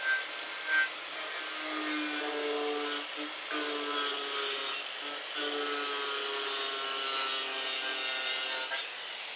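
A bandsaw fitted with a modified jig cuts steadily through wood, giving a continuous close buzzing rasp with a low tonal hum that dips briefly a few times as the cut progresses.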